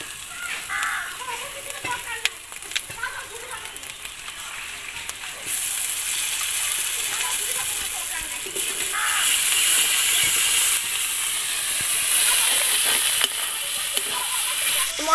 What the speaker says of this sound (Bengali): মশলা এখানে খুব ভালো করে কষিয়ে নেওয়া হয়ে গিয়েছে।